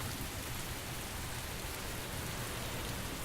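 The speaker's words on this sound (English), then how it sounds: "it's been raining constantly forever." Steady, dense rain hiss from the video game Heavy Rain Remastered, even and unbroken throughout, with no other sounds standing out.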